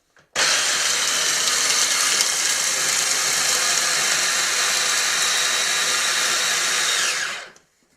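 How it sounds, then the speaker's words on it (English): A small electric mini grinder whirs steadily for about seven seconds at close range, a loud continuous buzz as it grinds half a cup of toasted hazelnuts, then spins down to silence. "I'm going to grind them in my little mini grinder, about a half a cup's worth"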